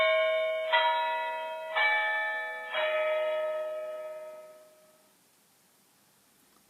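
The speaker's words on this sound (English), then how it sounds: "this should chime for the quarter of an hour" A model railway clock chimes the quarter hour: three clear, bell-like strikes in slow succession, each ringing out and decaying into quiet.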